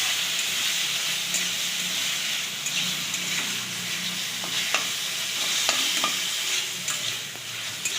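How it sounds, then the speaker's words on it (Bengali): Marinated chicken fries in hot white oil in a wok, making a continuous crackling sizzle with occasional sharp clicks from stirring, at a steady, moderate level. "তেলটা গরম হলে ম্যারিনেট করা চিকেনটাকে দিয়ে দেবো"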